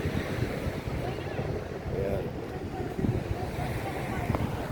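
Ocean waves at Patar White Beach in Bolinao, Pangasinan, surging against a constant roar of wind buffeting the microphone, with a rushing wash that never lets up.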